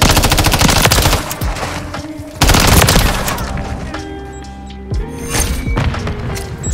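Assault rifle gunfire in Call of Duty MW3, loud close automatic bursts with heavy booming shots, dense and continuous, dipping briefly then resuming with fresh volleys amid game effects.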